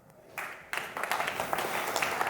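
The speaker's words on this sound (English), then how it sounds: "Round of applause for Carsten." A crowd at an energy technology pitch competition final breaks into applause that swells after a moment and continues as steady, dense clapping.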